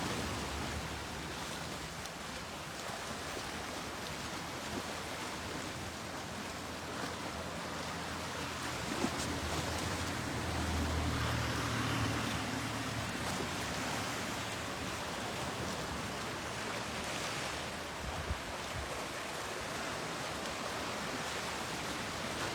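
Sea waves off Sicily near the Aeolian Islands, a steady broad wash of surf and wind-like rushing that stays even and continuous, with no voices.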